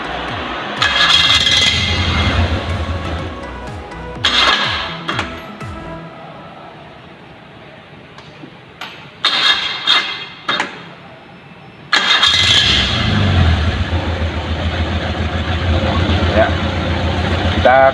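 A faulty car engine that cannot run normally during a sensor and actuator check cranks and catches in loud bursts, sputters and stalls, then roars again, with quieter gaps between attempts and a voice talking at times.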